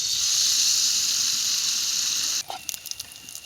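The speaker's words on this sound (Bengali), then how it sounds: "গরম হয়ে গেছে, পিঠাটা দিয়ে দিলাম।" Pitha dropped into hot oil in a kadai sizzles with a loud, steady bright hiss that cuts off sharply, followed by a few light crackles and pops.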